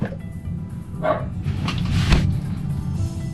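A dog on a couch barks at something outside the window indoors, a few separate woofs and yips over about three seconds, moderately close, with faint background noise between barks.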